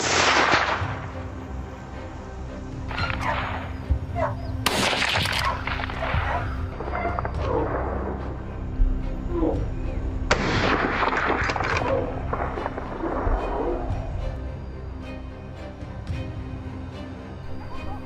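Several sharp gunshots ring out during a wild boar hunt in hilly woodland, widely spaced bursts, each with a short echoing decay over a steady outdoor background.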